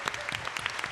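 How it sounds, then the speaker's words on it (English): Dense applause from a science comedy show audience in Brisbane, a steady wash of clapping filling the whole moment. "Give them a huge round of applause."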